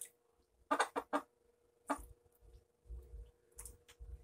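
Hens with a dried, scabbed prolapse give a few short, close clucks and squawks as they are handled, scattered between quieter stretches of low rustling and handling noise.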